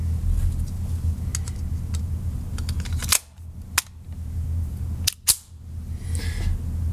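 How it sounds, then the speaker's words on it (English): A Ruger MkIV 22/45 Lite .22 pistol fires at a target 7 yards away, giving about four sharp, fairly close cracks spread unevenly over several seconds, each followed by a brief drop to quiet, with no talking. "here we go, shooting the Ruger MkIV"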